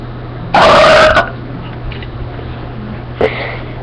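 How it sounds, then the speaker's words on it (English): A big burp after sipping canned soda, a loud, close, rumbling belch lasting about half a second, followed a couple of seconds later by a shorter, fainter vocal sound. "The trick to having big burps is drinking soda cans, because they have more caffeine and sugar."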